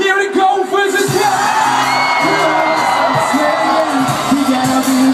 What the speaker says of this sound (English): Let me hear you scream for the men.